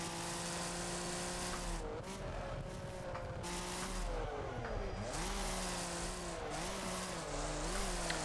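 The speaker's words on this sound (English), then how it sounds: "we are trying to drift here on the pavement" Car engine revving and shifting in the racing game Wreckfest while the car drifts sideways on pavement, steady loud engine tone rising and falling with gear changes and faint tire squeal throughout.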